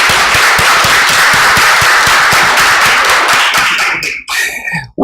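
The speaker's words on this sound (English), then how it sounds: "I want community to make a round of applause for co-chairs" Audience applause at the AFRINIC 29 meeting in Tunisia for the co-chairs, with loud, close rhythmic clapping that turns into looser scattered claps near the end and then breaks off.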